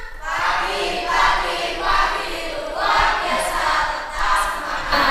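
A large audience of teachers in training cheers enthusiastically at a university ceremony, a loud sustained roar of many voices swelling and easing in waves, with shouts rising out of the crowd.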